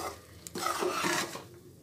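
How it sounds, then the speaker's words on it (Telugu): A Mysore pak mixture with ghee is stirred in a pan over low heat; a single close, rasping scrape sweeps through over about a second against a quiet background, with no talking. "బాగా కలుపుకుంటున్నామండి"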